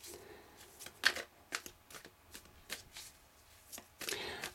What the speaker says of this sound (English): when I started shuffling the cards